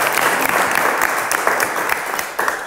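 A crowd applauds and cheers, a dense continuous wash of clapping, loud and close, with voices mixed in throughout.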